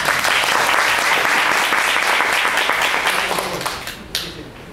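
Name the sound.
audience applause at Rotary club meeting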